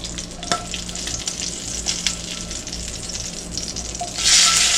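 Hamburger patties sizzle and crackle steadily in a hot frying pan, with a few sharper pops and a louder burst of sizzling near the end, close by.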